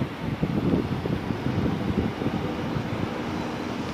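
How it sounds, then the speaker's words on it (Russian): A cool breeze blowing outdoors in Tomsk rumbles steadily across the microphone, a continuous low buffeting with no voices. "Дует прохладный ветерок."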